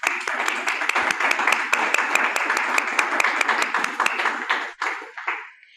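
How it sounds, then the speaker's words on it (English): A small audience at a storytelling talk gives a round of applause: distinct, fairly rhythmic claps from a modest group that stay steady for several seconds, then thin out and fade at the close. "let's give him a round of applause"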